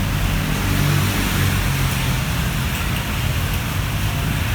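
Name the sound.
rain starting to fall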